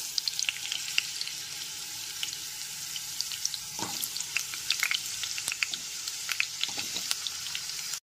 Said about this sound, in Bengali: তেলটা গরম হয়ে গেছে, এবার কেটে রাখা আলু টুকরোগুলোকে দিয়ে দিচ্ছি